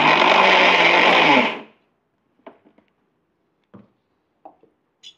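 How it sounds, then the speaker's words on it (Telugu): Mixer grinder whirring loudly while grinding garlic cloves, cloves, a cinnamon stick and cardamom, running steadily for about a second and a half before cutting off, followed by a few faint clicks and knocks. "వెల్లిపాయలు ఒక 10 గాల, 4 లవంగాలు, 1 ఇంచు చెక్క, యాలకులు 2 అన్నీ మిక్సీ పట్టుకుందాం."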